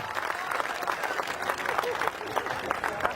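Audience applause at a Hindi comic poetry gathering (hasya kavi sammelan), a steady patter of many hands clapping at moderate level throughout, with faint crowd murmur mixed in.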